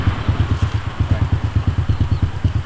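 Motorcycle engine idling close by in a village, a steady rapid low thumping pulse with a slight rattle, loud and continuous throughout with no talk over it.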